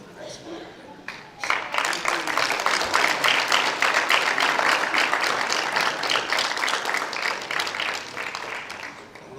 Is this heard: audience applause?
yes